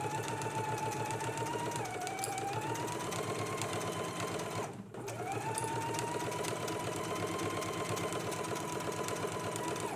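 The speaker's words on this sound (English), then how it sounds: "let's go ahead and stitch along the double notched edge using a 5/8 of an inch seam allowance" A sewing machine runs steadily, stitching the double-notched seam of a jacket with a 5/8 inch seam allowance, a loud continuous motor whir with a brief pause midway before resuming.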